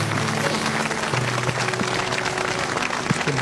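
Audience applause at a live Hindi song performance about mothers, dense and loud crowd clapping blended with sustained musical tones and a low hum.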